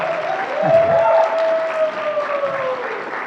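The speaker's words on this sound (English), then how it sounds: "Let's give another round of applause." Applause from a church congregation at a Sunday service, a steady broadband wash of clapping with a tonal hum or voice-like tone running through it.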